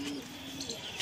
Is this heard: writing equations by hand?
no